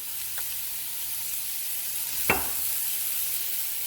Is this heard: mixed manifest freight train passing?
no